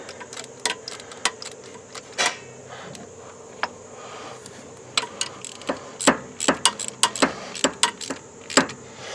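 A spark plug being snugged down by hand with a ratchet in a Ford Explorer engine bay during a rebuild of a wrecked vehicle: a run of sharp metallic clicks and ticks, sparse at first, then quicker and denser toward the end, close and fairly loud.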